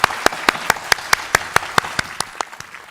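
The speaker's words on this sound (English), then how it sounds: "Let's give them a round of applause for all the hard work." At a Teachers of the Year celebration, a close, sharp clapper beats out evenly spaced claps at a quick steady rhythm, over a softer wash of audience applause.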